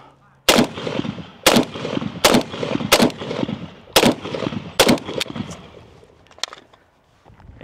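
A PSA Krink rifle fires a magazine in six loud, widely spaced shots about a second apart, each a sharp close crack with a ringing tail, followed by fainter clinks and handling noise.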